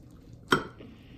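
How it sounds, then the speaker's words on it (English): A knife cuts a cross-section through an Instant Pot egg loaf layered with eggs, sausage and melted cheese, giving one sharp metallic clink against the dish followed by a faint scrape, close and otherwise quiet. "So let's just give that a little cross-section cut here."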